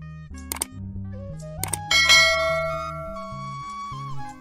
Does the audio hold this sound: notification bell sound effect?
yes